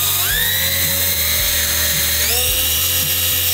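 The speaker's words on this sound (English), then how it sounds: "we always start out with a small drill bit to make a pilot hole" A power drill whines loudly and steadily, its pitch dipping and rising as a small bit drills a pilot hole into a Ferrari's metal body, running continuously without pause.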